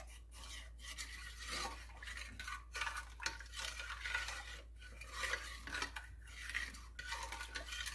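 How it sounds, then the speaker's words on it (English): A utensil scrapes roux off the bottom of a pan of beef Hungarian goulash with repeated rhythmic strokes and metallic clinks, close and fairly quiet over a low hum, with no talking. "we're getting the roux off the bottom of this pan is what we're doing right now"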